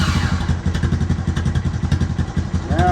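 A Honda Recon TRX250TM ATV, jacked up in neutral, runs at a steady idle with a loud, close, rhythmic chugging engine pulse and some mechanical clatter throughout.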